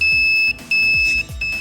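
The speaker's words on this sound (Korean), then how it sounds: "이렇게 선을 빠지기만 해도 경보가 울리면서" An electrical fault detector's alarm sounds after a wire is pulled loose: a loud, piercing electronic beeping with steady high tones, broken by short gaps and repeated sweeping pulses, alone without talk.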